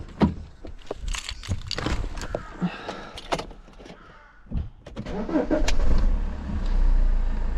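BMW 520d with M47 diesel engine turning over and settling into a rough, uneven idle, close by, with sharp clicks and knocks before the engine note rises and holds unsteadily.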